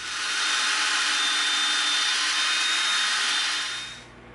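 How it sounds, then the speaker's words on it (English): A steady, loud whirring grind of a thick drill bit boring through EVA foam, running continuously for several seconds before winding down. "we're going to come in now with a thicker drill bit"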